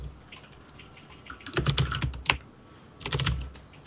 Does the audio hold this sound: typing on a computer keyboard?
yes